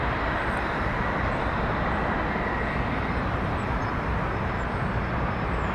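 Heavy airliners taxi at Toronto Pearson airport, producing a constant, loud, broadband engine roar that holds steady without pauses or voices.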